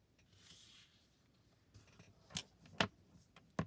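Paper for a craft project is handled, folded and creased, giving soft rustling followed by several sharp, close crackles and snaps from the crease being pressed down.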